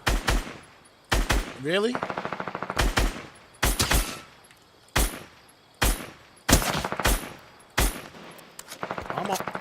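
Video game gunfire: loud, repeated bursts and single shots throughout, close and sharp, with a voice speaking briefly between volleys.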